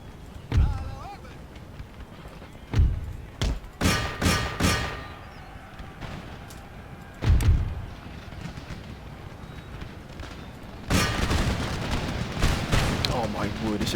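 Musket volleys and artillery in the Napoleonic-era strategy game Empire: Total War, heard as scattered heavy booms and thuds at irregular intervals, then a denser rolling crackle of fire near the end.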